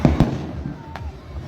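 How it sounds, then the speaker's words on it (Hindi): Fireworks bursting at a Chhath Puja celebration on a beach in the Vasai-Virar area, with sharp loud cracks early on followed by fainter pops over a murmuring crowd background. "उसके साथ ही आतिशबाजी हो रही है।"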